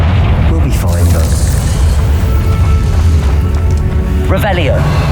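Confringo fire spell exploding in Hogwarts Legacy: a heavy, booming blast with rumbling low end, a sharp crack near the end, and someone talking over it.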